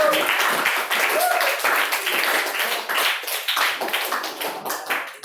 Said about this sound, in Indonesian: Tepuk tangan buat kelompok 6.